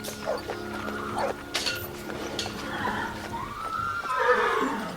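A horse neighs and whinnies loudly as an audiobook sound effect, with a long rising whinny near the end over a busy background.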